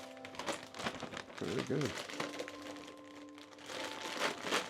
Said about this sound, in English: So these go right into the Ziploc bag here.